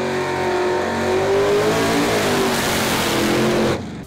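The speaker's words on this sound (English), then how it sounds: "Superchargers have a distinct, powerful roar of sorts." A supercharged car engine roars loudly and close, its pitch climbing and falling as it revs for several seconds before cutting off sharply at the end.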